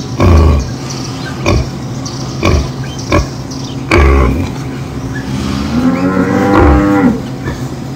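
A cow lets out a long, loud, drawn-out moo nearby, preceded by heavy thumps and shuffling movements.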